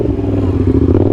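Motorcycle engine revving up hard as the rider lifts into a wheelie, a loud close roar with some clatter and scraping.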